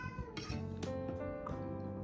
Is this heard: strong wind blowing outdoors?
no